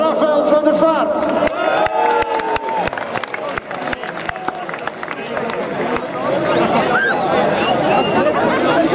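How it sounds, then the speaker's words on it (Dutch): A large stadium crowd at a football match roars and claps in a broad, continuous wash of applause and cheering, with sharp clap transients and shouting voices mixed in. "Jullie applaus, Rafael van der Vaart."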